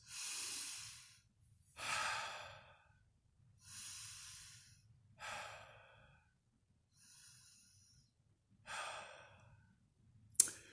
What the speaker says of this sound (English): The next thing I want you to do is sort of just take a few deep breaths.